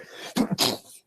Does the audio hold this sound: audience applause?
no